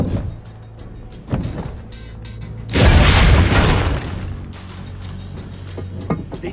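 A cannon fires once in the video game Assassin's Creed Brotherhood, a loud booming blast with a rumbling tail that fades over about a second, set against a low ambient hum and faint clatter.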